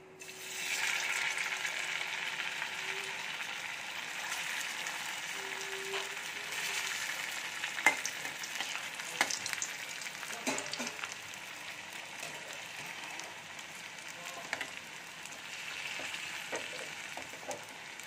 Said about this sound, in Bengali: তো তেলটা গরম হয়ে গেছে, আমি মুইঠাগুলো ভেজে নেব।